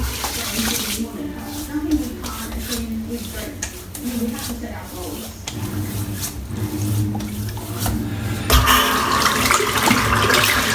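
Running water splashes from a tap into a sink as aftershave conditioner is applied after a wet shave, steady and close, with a voice talking over it.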